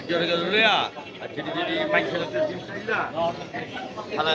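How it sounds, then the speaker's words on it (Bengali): Pigeons coo softly in a cage in the background while someone talks over them throughout. "আমরা বর্তমান বাবু ভাইয়ার খাঁচায় কবুতর"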